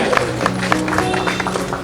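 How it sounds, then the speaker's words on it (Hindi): Applause for police officers at an award ceremony, a dense patter of clapping from the crowd running throughout, with a voice over the sound system layered on top. "इनके लिए जोरदार तालियां।"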